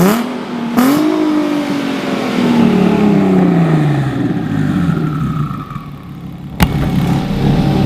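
A warm engine in a car fitted with a built 6R80 transmission revs hard, climbing then slowly falling away, with a sharp click near the end. The sound is loud and close, with no voices.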